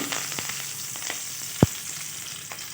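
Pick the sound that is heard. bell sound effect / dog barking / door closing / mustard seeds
mustard seeds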